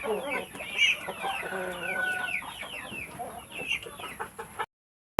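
On a livestock farm, chickens cluck busily and roosters call now and then, a lively barnyard chorus close by, continuous until it cuts off near the end.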